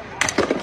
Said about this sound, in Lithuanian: Just before shots ring out at 6:15.